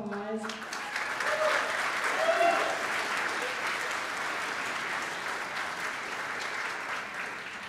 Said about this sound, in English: Can everybody please give JC a round of applause?